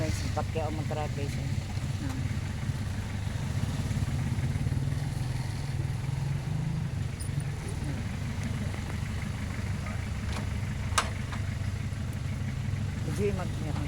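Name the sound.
motorcycle engine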